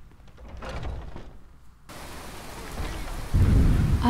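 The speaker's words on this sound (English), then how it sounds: "Hope you don't mind the rain." Heavy rain and a thunderstorm in a fantasy world, starting with low rumbles and a muffled crack, then a broad steady hiss of downpour that swells near the end into a loud close rumble of thunder.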